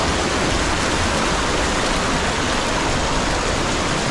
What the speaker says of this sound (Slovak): To je obrovský, vysoký vodopád.